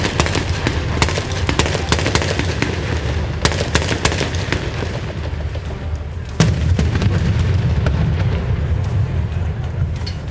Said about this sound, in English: It seems as though the unmanned diversionary explosion was successful.